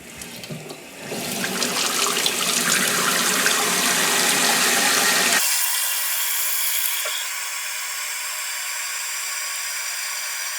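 Water rushing into a household toilet tank as the supply valve is turned back on after a flapper valve replacement, a loud broadband hiss and gurgle that settles into a steadier, thinner fill sound, with no talking.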